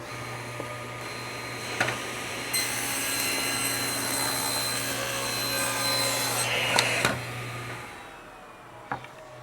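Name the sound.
table saw with 60-tooth triple chip grind blade cutting melamine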